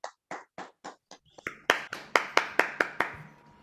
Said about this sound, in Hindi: जोरदार तालियां दोस्तों, जोरदार तालियां